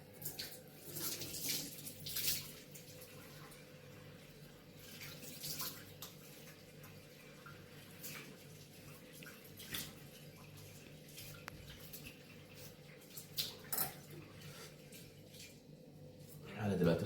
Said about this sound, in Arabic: خليكم معايا بقى عم اغسل وشي.